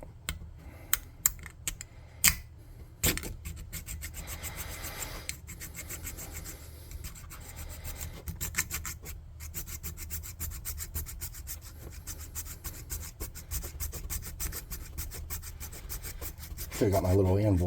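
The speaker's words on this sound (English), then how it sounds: "Let me get a saw here." A small hand saw cuts through a plastic HeroClix base part with fast, steady, close rasping strokes, preceded by a few sharp clicks of handling and ending in a louder thud.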